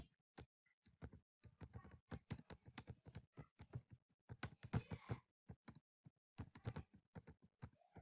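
Quick, crisp keystrokes on a computer keyboard come in uneven bursts with short gaps, close-up and fairly quiet, with no voice over them.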